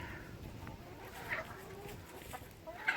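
Backyard chickens cluck softly and intermittently at moderate distance, a few short higher calls standing out over a constant low outdoor hum.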